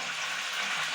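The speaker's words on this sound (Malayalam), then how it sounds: "അപ്പം നല്ല പൊട്ടിപ്പൊരിയുടെ സൗണ്ട് ഉണ്ട്" Jackfruit fritters crackle and hiss in hot oil as a steady, dense frying noise, loud and close, with no voices.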